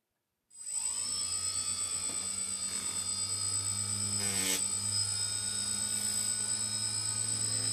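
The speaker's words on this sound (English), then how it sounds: "I just have little pieces of tape on here to test the direction of the spin" The motors and propellers of a DJI F450 quadcopter spin up from silence into a steady, loud high-pitched whine with a low buzzing hum, holding constant after a brief rise, with small bits of tape attached.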